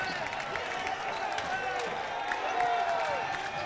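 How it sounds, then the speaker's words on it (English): A basketball crowd at a college game lets out a steady, excited cheer after a dunk, a broad wash of voices and clapping that swells slightly near the end. "And that'll get the crowd buzzing."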